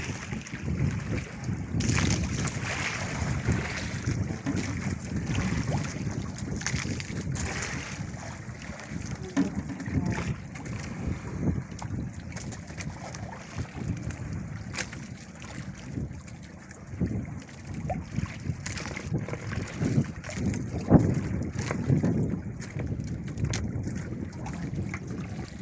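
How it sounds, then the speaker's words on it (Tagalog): Steady gusting wind buffets the microphone outdoors, a low rumbling roar throughout with faint voices and water-like noise underneath. "Maraming lakas pa rin ang hangin."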